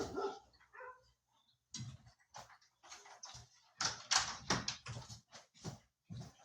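Several dogs bark in a home, a series of sharp, fairly close barks in irregular bursts, with some faint yips and whimpers between them.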